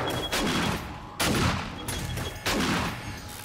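Three sharp, loud gunshot blasts in the video game 7 Days to Die (Alpha 21), spaced roughly a second apart, each with a long rumbling tail that fades before the next shot.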